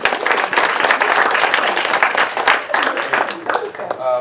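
Audience applause for a volunteer at a mentalist's show in an adult social center, a thick burst of many people clapping close by, holding steady before thinning out at the end.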